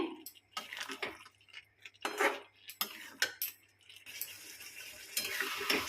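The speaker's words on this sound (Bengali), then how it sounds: "এবার এর মধ্যে আমি দিয়ে দেব যে আলুগুলো আমি সেদ্ধ করে রেখেছিলাম, সেই ছোট আলুগুলো। এগুলো এবার এর সাথে ভালো করে নাড়াচাড়া করে নিয়ে" Boiled small potatoes being stirred into a pan of masala for aloo dum, with a spoon clattering and scraping against the pan in irregular bursts under a soft sizzle, close by.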